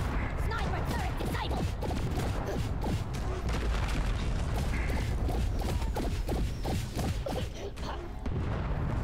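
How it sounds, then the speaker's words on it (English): Dense, continuous game combat in Deep Rock Galactic, with grenade launcher fire among many booms, bursts and mechanical clatter over about nine seconds, with people talking underneath. "Did I get it? With a grenade launcher?"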